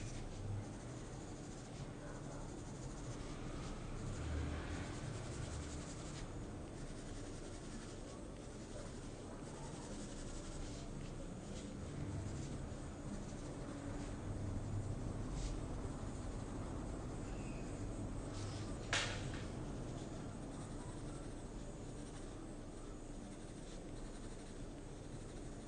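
Pencil scribbling on paper while drawing a still life, a soft continuous scratching texture with occasional sharper strokes, close but quiet, running without pause and with no speech.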